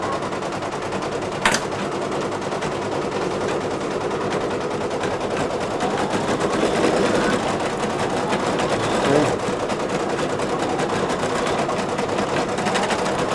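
Embroidery machine stitching a PE Design photo stitch pattern, running as a fast, steady mechanical chatter with a brief sharp click near the start; two machines are running.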